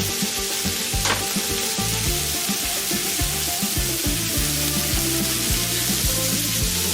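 Lamb chops sizzling on a grill as they are turned over, a constant dense crackling sizzle with a soft clink of a utensil, heard alone without speech.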